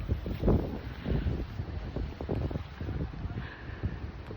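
Steady wind buffets the microphone throughout, with rumbling low gusts and rustling, no voices heard.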